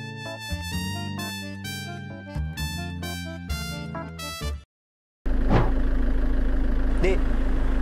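Tonal music plays, then cuts to a short silence, then a steady low engine rumble starts from an unlicensed shared taxi car as it pulls away, close and continuous.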